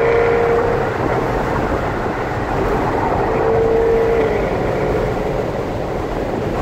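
A Jaguar F-Type R with its V8 engine drones steadily while driving, a loud continuous engine and road roar with a faint tonal whine, no talking.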